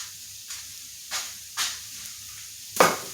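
A steak on a hot grill gives a few short, separate bursts of hissing sizzle against a quiet background, with the last burst the loudest.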